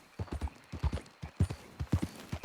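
Horse hooves clip-clop at a steady walking pace in the Red Dead Redemption 2 game, a regular rhythm of fairly quiet, close hoof strikes with little else around them.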